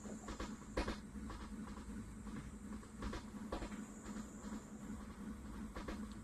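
A train rolls steadily in a video game, with a constant rumble and evenly spaced rhythmic clacks, heard alone at moderate volume.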